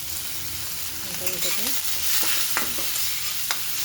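Dal frying in a pan for a cucumber dal fry, with tomatoes, kasuri methi and turmeric powder added, hisses in a dense, continuous close sizzle with a few sharp stirring scrapes and taps.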